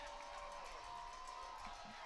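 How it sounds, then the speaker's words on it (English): A Danville high school football crowd cheers and roars in a steady, distant wash of noise at an evening home game, with a sustained whistle-like tone running through the din. "Danville crowd loving this, getting loud"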